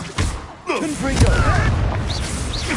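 Confringo blasting spell explodes in Hogwarts Legacy amid combat, sharp booming bursts and rumbling impacts with whooshing, swooping magical tones, loud and close, a voice speaking over them.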